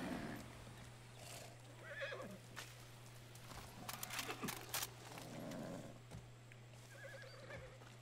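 A horse in the video game Far Cry 6 whinnies and snorts over clip-clopping hooves, with sharp clicks and bursts of game effects layered over a steady low hum.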